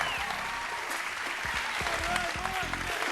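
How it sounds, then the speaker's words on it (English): An audience at a game show applauds, a dense, continuous clapping wash under a voice speaking. "We have a round of applause for Steve and his magical bowling ball here"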